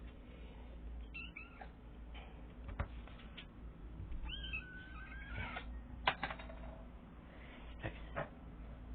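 A skinny stray kitten meows repeatedly, thin and irregular cries scattered across several seconds, fairly close but quiet, over a low steady background hum.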